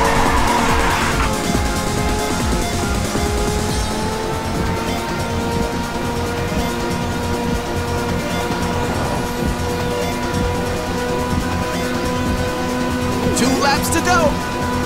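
Race cars in the video game Ridge Racer 6 roar along with engine drone and tire squeal as nitrous fires, continuous and loud with bursts of effect sounds, while a voice talks over the game.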